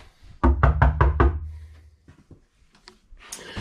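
Knuckles rap five times in quick, even succession on a solid core door inside a tiny home, loud and close, followed by a few softer taps and room shuffling.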